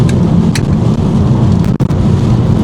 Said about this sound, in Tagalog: Malakas na ulan dito, grabe.